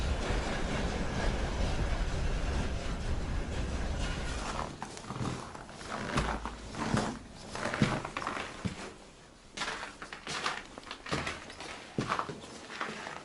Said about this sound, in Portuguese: o trem que vai vazio para a fábrica, para a mina e volta carregado